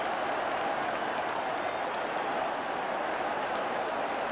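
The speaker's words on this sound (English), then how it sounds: "the crowd shouted immediately too" A football stadium crowd roars after a handball penalty is awarded, a loud, dense, continuous wash of shouting voices that holds steady throughout, with no single voice standing out.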